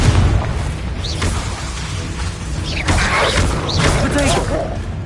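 A Confringo blasting spell in Hogwarts Legacy bursts with booming explosive impacts and whooshes, set against continuous loud game combat noise and a voice.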